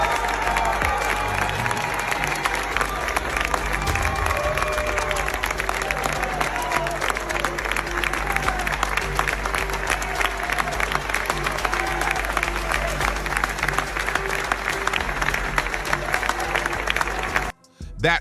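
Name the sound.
crowd applauding at Heisman ceremony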